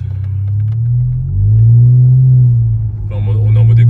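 A car cruising in eco mode hums with a soft, muffled low engine rumble that swells slightly midway, steady and close, with a brief lighter noise near the end.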